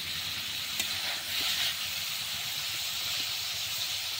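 Fish being mixed with spices as it fries in a pan, a soft continuous sizzle and hiss with faint stirring scrapes, steady and close but fairly quiet.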